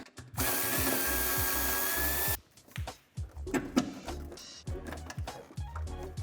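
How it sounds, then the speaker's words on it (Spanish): A power tool, likely a drill or driver, whirs steadily for about two seconds while removing a screw during a tow-hitch fitting on a 2018-2024 Dacia Duster II, followed by softer ratcheting and handling clicks nearby. "Soltaremos también este tornillo."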